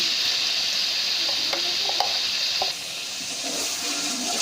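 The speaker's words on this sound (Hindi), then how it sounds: "इसको भी हम इसके अंदर अच्छे तरीके से फ्राई कर लेंगे।" Chopped garlic, ginger and green chili sizzle steadily with onions in hot oil for a chickpea pulao, with a few light stirring clicks over the constant close frying hiss.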